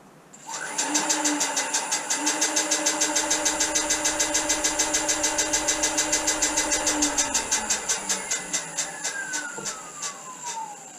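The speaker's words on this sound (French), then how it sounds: "premier petit test de démarrage du moteur qui s'est pas trop mal passé, il y avait un bruit bizarre" A small electric bike motor runs steadily with a rapid rhythmic knocking and a high whine, then winds down with a falling pitch.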